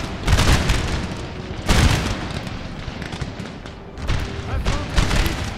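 Artillery fire in the Napoleon: Total War video game, with the Darthmod mod installed, in a battle. Booming cannon blasts come in waves at the start, around two seconds and near four seconds. Steady rumbling battle noise fills the gaps between them.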